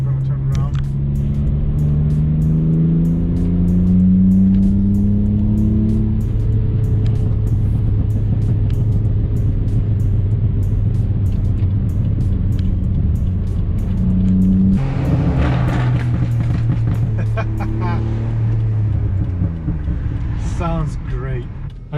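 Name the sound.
tuned BMW E46 car engine revving while driving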